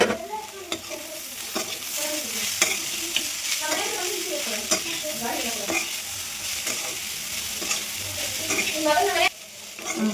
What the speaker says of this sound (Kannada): ಕಾಳು ಹಾಕ್ತಾ ಇದ್ದೀನಿ.